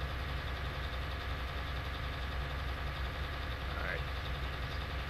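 A tillage tractor pulling a field finisher across a field in Farming Simulator 19 runs with a steady, droning engine hum that holds an even level throughout.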